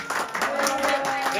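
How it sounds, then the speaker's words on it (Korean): A church congregation applauds as the pastor enters, with a short burst of steady clapping mixed with voices for barely a second and a half. "박수."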